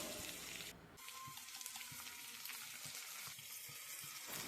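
Food frying in a pan while a dish is cooked for a wedding-style feast, a steady close sizzle with scattered crackles and stirring clatter, no voices.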